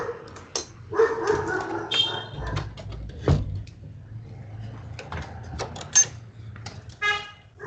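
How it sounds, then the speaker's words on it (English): A dog barking and yipping in the background, several separate barks and whimpers spread irregularly across the stretch, moderately loud against quiet room noise. "Some dog is barking."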